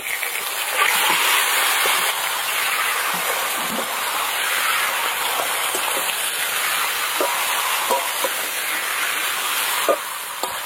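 Marinated duck meat hitting hot oil spiced with bay leaf, dried red chilli and whole garam masala, a loud continuous sizzling hiss with scattered small crackles and pops throughout.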